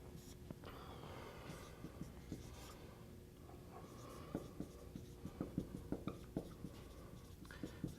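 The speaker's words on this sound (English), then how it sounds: "let me write that down as a definition" Quiet writing on a board during a mathematics lecture, a soft series of irregular taps and scratches with no talking, growing slightly busier toward the end.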